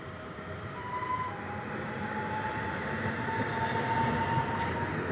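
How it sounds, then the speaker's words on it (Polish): A regional train on the Katowice–Kraków Główny service pulls out of a station, its steady rumbling roar and faint tonal whine holding at an even, fairly loud level throughout, with no voices. "Odjeżdża pociąg regionalizacji Katowice Kraków Główny."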